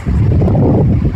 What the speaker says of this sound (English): these waves are just coming in